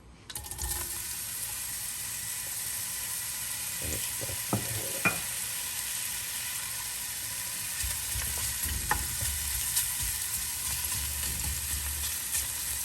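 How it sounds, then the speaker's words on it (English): Onions caramelizing in a pan give a steady, close sizzle that never lets up, with the odd clink and scrape of stirring over the frying hiss. No one speaks. "Just the onion cooking."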